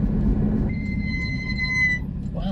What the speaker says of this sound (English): Wow, squeaky brakes.